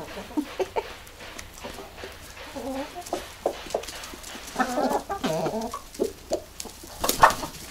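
Chickens on a rural farm yard cluck and peck feed from a bucket, with a rooster nearby; irregular close clucks and short calls come in scattered bursts over a quiet outdoor background.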